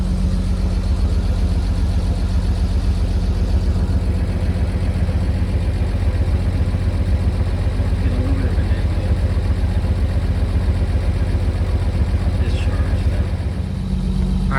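A 1950 Chevrolet 4400 dump truck engine idling steadily, a loud, even low rumble with a fast regular pulse that holds unchanged throughout, with no talking over it.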